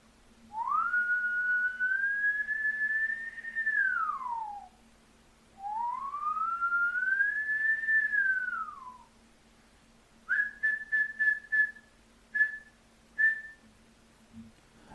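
A person whistles away from the microphone: two long rising-and-falling tones, then a run of short clipped notes, moderately faint over a low steady hum.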